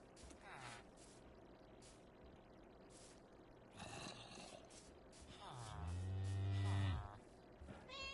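Cows in the video game Minecraft Bedrock Edition give several drawn-out moos, the last one loud and long, over a low, steady game background.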